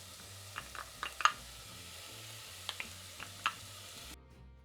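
Onions, bacon and garlic frying in a pot for Antiguan pepperpot, a faint, quiet sizzle with a few light clinks and stirring knocks scattered through, ending abruptly.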